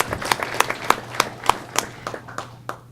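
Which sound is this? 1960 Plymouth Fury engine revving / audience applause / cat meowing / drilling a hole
audience applause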